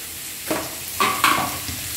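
Sliced onions frying in oil with a pinch of salt, cooked until deep red for a poppy-seed dish: a steady close sizzle, with a few brief louder bursts of hiss as the pan is stirred.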